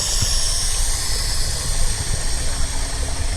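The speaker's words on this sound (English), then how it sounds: "you're going to take this switch right here, this valve, and you're going to turn it." Air hisses steadily out of an opened pool filter valve, a loud, broad and continuous rush close by with no voices.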